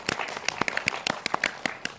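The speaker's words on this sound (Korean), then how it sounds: "일단 박수 한번 부탁드리고" Audience applause after a short-film screening Q&A at the Seoul Independent Film Festival, a dense burst of close, sharp hand claps lasting about two seconds, no voices over it.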